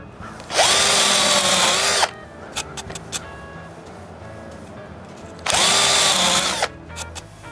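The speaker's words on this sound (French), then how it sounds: "je perce la mortaise de la barrure" A power drill bores a lock mortise into a wooden window frame in a workshop, running in two loud, steady bursts of about one and a half seconds each, with quieter tapping and handling noises in between.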